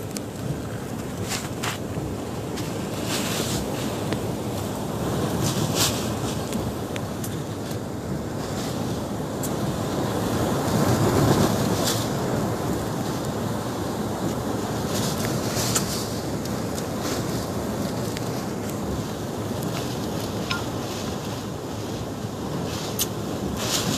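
Strong Super Typhoon Rolly wind in Albay roars without pause, with rushing gusts swelling and easing over a dense background of storm noise.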